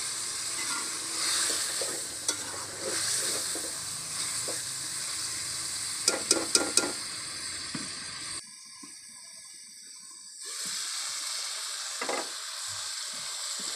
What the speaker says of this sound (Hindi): ये मैंने गोश्त डाल दिया है। इसे अच्छी तरह से मैं 5-10 मिनट के लिए पका लूँगी